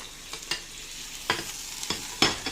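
Garlic browning in a pot while a spoon stirs it, heard as a soft, steady sizzle broken by several scraping stirs at uneven intervals, close and moderately quiet, with no talking.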